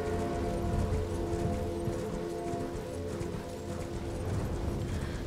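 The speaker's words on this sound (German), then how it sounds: "Komm, mein Pferdchen, komm! Torrent." Hooves of Torrent, the spectral horse in Elden Ring, clip-clop steadily in a galloping rhythm through the whole stretch, fairly loud against a dense background wash.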